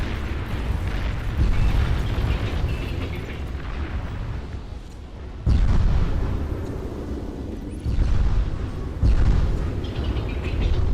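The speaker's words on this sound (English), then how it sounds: "T2 bombers bombing T1 subs is a big oof." T2 bombers bombing T1 submarines in the strategy game Beyond All Reason, a continuous loud rumble of explosions with several heavy booms bursting out in succession.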